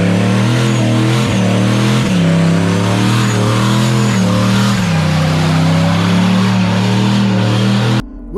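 A car doing a burnout at Daytona roars continuously at high revs, the loud engine note wavering and dipping slightly over several seconds, heard up close with no talk, then cutting off abruptly at the end.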